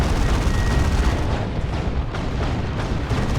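Double assault cannon barrage in the Warhammer 40k game Dawn of War 2, a continuous dense roar of rapid heavy gunfire and booming impacts, loud and sustained throughout.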